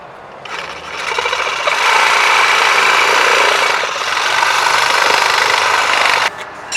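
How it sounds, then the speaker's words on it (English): A hand saw cuts a board of wood to size on a car repair job, one steady, loud stretch of rasping strokes running almost six seconds before stopping abruptly. "Now we got to saw this to size"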